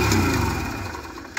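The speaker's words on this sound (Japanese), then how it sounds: "ヤマハのビラーゴ250、始動確認します" A Yamaha Virago 250 motorcycle engine starting in a garage: a loud, close mechanical rumble that catches and runs, easing slightly over a second and a half.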